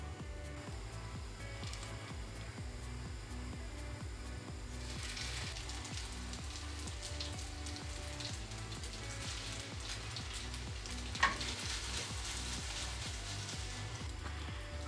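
Steady crackling hiss of linguine frying in a pan with zucchini, constant throughout with a faint rhythmic thumping underneath and one brief sharp click.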